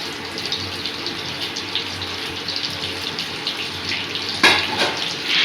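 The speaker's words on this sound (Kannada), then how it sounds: "ಚಟಪಟ ಅಂತ ಸಿಡಿದ್ರೆ ಎಲ್ಲ ಮೇಲೆಲ್ಲ ಸಿಡಿದ್ಬಿಡ್ತವೆ." Mustard seeds crackle and sputter in hot oil for a homemade curry, a dense, hissing sizzle with scattered pops and a sharper burst of spattering near the end, close and without talk.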